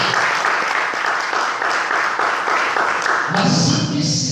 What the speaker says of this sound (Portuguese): Vamos aplaudir isso.